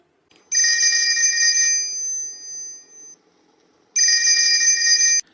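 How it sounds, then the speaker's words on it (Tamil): A cartoon telephone rings with a bright electronic bell tone. One long ring trails off, and after a pause a second ring follows, loud and close with no talk over it. "போன் எடுங்க"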